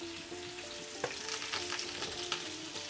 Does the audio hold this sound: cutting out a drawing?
no